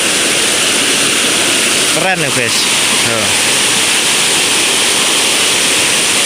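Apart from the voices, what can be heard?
mountain river rushing after rain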